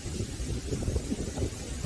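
Wind blows outdoors and buffets the microphone, making a continuous low rumble with uneven gusts throughout.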